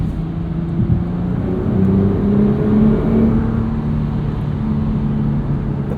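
A 2021 Nissan GT-R Premium pulls hard on Blizzak winter tyres, its engine note climbing smoothly and steadily under load. The loud, continuous drone carries through the cabin with no talking over it.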